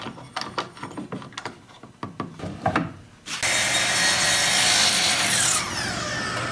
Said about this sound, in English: You could hear how the sanding table kicked in automatically.